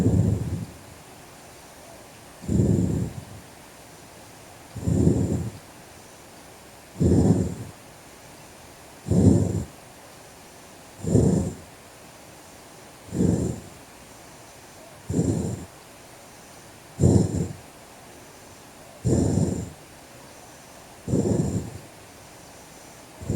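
A person does Wim Hof Method breathing, inhaling through the nose and exhaling through the mouth. About a dozen strong, evenly paced breaths sound close to the microphone, each a rushing burst followed by a short quiet gap, with no talking.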